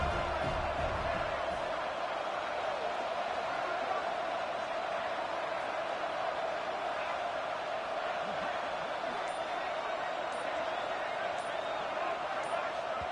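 Stadium crowd noise in an NCAA football video game: a steady, loud roar from the crowd that holds throughout, with commentary voices talking over it.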